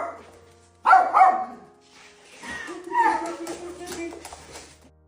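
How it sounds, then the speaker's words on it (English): Dogs bark excitedly in a few quick, loud yips at a family homecoming for a soldier, with people talking and cheering close by. "even the dogs can't contain their excitement"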